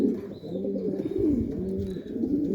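Racing pigeons in their moulting season coo in low, throaty, rolling phrases close by, with faint chirps above; no talking.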